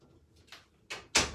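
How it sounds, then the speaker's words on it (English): A door is pushed shut in a home, a few quick soft knocks and scrapes ending in a sharper, louder latch thump, all close by and brief. "I'm going to shut this door real quick"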